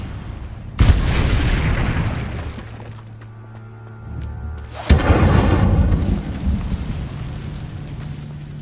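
Incendio fire spell cast in a Harry Potter Hogwarts video game, two loud whooshing bursts of flame, each a sudden blast that roars and slowly fades, with a low hum between them.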